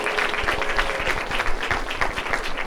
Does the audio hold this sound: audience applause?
yes